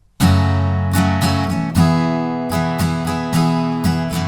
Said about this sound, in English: So if we wanted to implement that strumming pattern to our progression, it would sound like this.